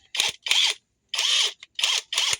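A cordless impact wrench fires in five short bursts of sharp, high-pitched whirring and hammering, each cut off by brief silences, close and fairly loud with no talk.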